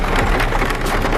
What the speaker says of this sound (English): The rain's coming down pretty hard.